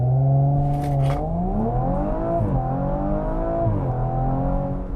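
An Audi RS4 launches hard from a standstill, its engine note climbing loud and close, briefly dipping at two gear shifts before pulling strongly again.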